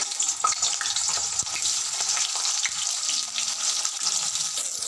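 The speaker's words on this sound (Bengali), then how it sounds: "গ্যাসে একটা কড়াই বসে তাতে তেল গরম করে নিয়েছি নিয়ে তার মধ্যে প্রথমে আমি দিয়ে দেবো আলুগুলো" Potatoes drop into hot oil in a wok and set off a loud, close, dense frying hiss that stays steady throughout, with small crackles and pops scattered over it.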